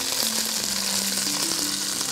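Flour-coated chicken fillet fries in hot oil with a dense, steady close-up sizzle and light bubbling crackle throughout.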